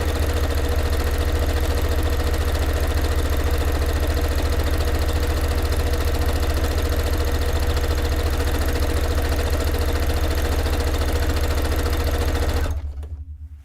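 A sewing machine runs continuously, basting a seam at regular stitch length on a cone-shaped cape, a steady close mechanical whir that stops abruptly near the end.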